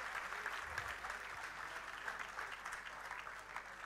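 Steady applause from an audience at a Colorado Party (Batllista) closing rally in Montevideo, a dense even patter of many hands, moderately loud and continuous with no talk over it.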